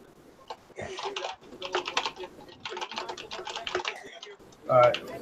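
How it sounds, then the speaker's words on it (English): A mechanical computer keyboard clatters with rapid, continuous key clicks throughout, close and fairly loud, with a brief burst of voice near the end. "Is that a mechanical keyboard or what kind of keyboard Who's is clicking around over there?"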